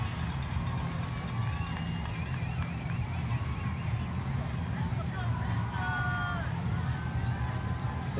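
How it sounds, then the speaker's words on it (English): A large crowd cheering at a night running race, a constant roar of voices with rising whoops and whistles, heard under a close commentator voice. "The crowd is going absolutely nuts tonight."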